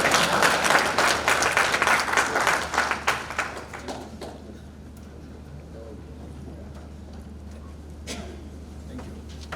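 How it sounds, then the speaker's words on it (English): An audience at the launch of a pensioners association in Juba bursts into applause that starts loud and dense, then tapers off after a few seconds into a quiet hall with faint murmurs and a stray clap. "First, clap for him"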